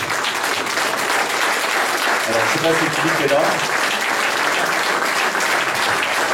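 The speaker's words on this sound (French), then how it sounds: "On les applaudit." Sustained, loud audience applause rolls through an election-night gathering for a presidential second round, continuous throughout, with a voice speaking briefly over it midway.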